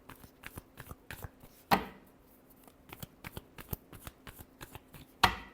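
Tarot cards shuffled by hand in a quiet room, with a run of soft, crisp riffles and taps and two sharper, louder bursts of cards snapping together, one early and one near the end. Close and dry, with no talking.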